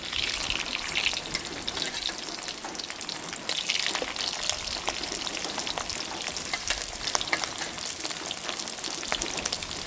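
Sticky rice and egg sizzle steadily in hot oil, a dense, constant crackle with occasional spatters and stirring, close and fairly loud throughout, with no talk.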